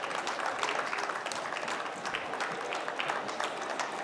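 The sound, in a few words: audience applause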